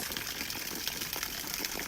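Water pours steadily into a duck pond being topped off, a continuous hissing gush with no breaks and no talking.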